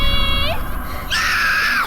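A scream in the horror game Slender: The Arrival: a short, loud, shrill wail that falls in pitch, then a brief gap, then a second sustained piercing cry.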